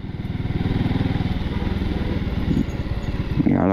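A motorcycle engine idles close by with a steady, pulsing thump as the bike is parked near the Gateway of India in Mumbai, ending in a brief throttle rise.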